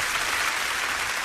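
Studio applause effect on a radio talk show, a steady dense wash of clapping that fills the whole short moment at even loudness with no voices over it.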